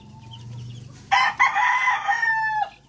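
Pet rooster crowing close by in a small backyard, one loud, drawn-out cock-a-doodle-doo rising sharply over quiet background clucks and faint chick noise.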